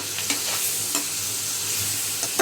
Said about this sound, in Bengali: মশলাটাকে পুরো কষাবো পেঁয়াজের সাথে।